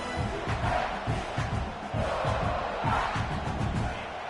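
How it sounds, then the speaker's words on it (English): Crowd noise from the College Football 26 video game, a sustained full-throated roar of a stadium audience that stays loud and dense throughout, with rhythmic low pulses under the continuous wash of cheering. "This crowd, full throat, splitting the eardrums and letting them know it's going to be a long day."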